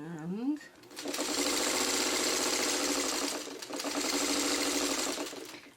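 A sewing machine runs in a steady, continuous burst while stitching quilt blocks for a traditional Chutes and Ladders pattern, with a brief pause midway, close and loud after a short bit of talk at the start.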